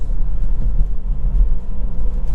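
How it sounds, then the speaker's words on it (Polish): A 2022 Kia Proceed GT with a 1.6T-GDI engine and seven-speed DCT drives through town in sport mode with its exhaust valves open, giving a deep, steady low rumble heard from inside the car. "Po wciśnięciu trybu sport otwierają się przepustnice w wydechu. Ten wydech jest jeszcze głośniejszy."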